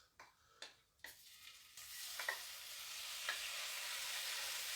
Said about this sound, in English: I'm just going to throw the shrimp in there and get started with this.